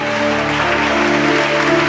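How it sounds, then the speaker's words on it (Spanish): Dense applause at a worship service fills the whole moment, steady and loud, with a sustained musical tone humming underneath. "Dale un fuerte aplauso al Señor."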